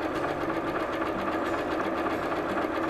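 A Janome sewing machine stitches a buttonhole with a rapid, even mechanical chatter, close and continuous for a few seconds, with no voices.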